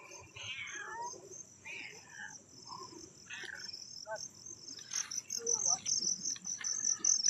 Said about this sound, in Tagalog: Ito pa pala pusa.